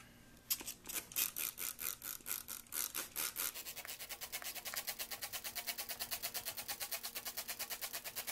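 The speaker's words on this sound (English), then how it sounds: "Now I'll mist them." Trigger spray bottle misting seedlings as they go in to germinate: a long run of quick, regular hissing spritzes, at first spaced and louder, then closer and steadier, up close with no talk.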